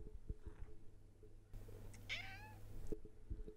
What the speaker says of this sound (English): Don't know if you picked that up, but she meowed.